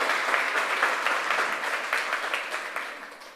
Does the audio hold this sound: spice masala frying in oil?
no